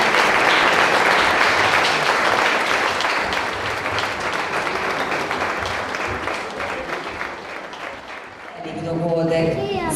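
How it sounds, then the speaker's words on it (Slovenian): Audience applause at a singing event: dense, loud clapping that fills the hall, then fades slightly, and music begins near the end. "Opogumimo jih s spodbudnim aplavzom"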